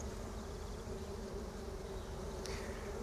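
Stingless bees buzz in a steady, dense drone close by, a continuous insect hum with no voices.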